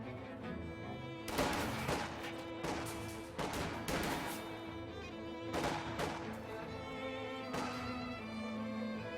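Rifle fire crackles through a real-time strategy battle as riflemen engage grenadiers, with repeated loud bursts of overlapping shots and explosive bangs ringing out amid continuous battlefield noise.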